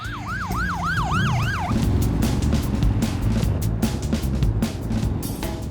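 A wailing emergency siren sweeps up and down loudly for under two seconds on a BMW R1200 RT police-style motorbike, then cuts off, leaving heavy engine and road rumble from the moving bike.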